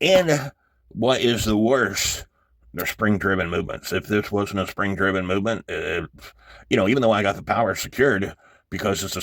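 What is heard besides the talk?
No everyday noises stand out.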